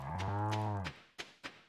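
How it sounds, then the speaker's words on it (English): A single cow in the farming game Stardew Valley gives a loud, drawn-out moo lasting nearly a second, followed by two short, sharp clicks or knocks. "Cow."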